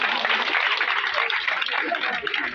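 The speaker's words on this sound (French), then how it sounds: "que je voudrais qu'on acclame très fort" A crowd claps loudly and steadily for a candidate at a political rally in a neighbourhood setting, the dense applause continuing unbroken for the whole span with a voice talking over it.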